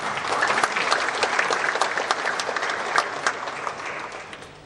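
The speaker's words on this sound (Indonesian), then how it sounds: "Oke, dari aparat Kejaksaan Tinggi DKI Jakarta, mohon tepuk tangan." A hall audience at an iftar talk show event applauds prosecutor's office staff, with dense, lively clapping that holds strong and then tapers off toward the end.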